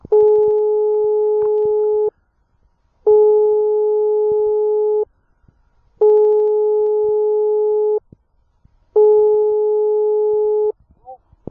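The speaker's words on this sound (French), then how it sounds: "En tout cas, ça sonne." Telephone ringback tone heard while placing a call, four long steady beeps evenly spaced with silent gaps between, loud and clean, faint handling noise in the pauses.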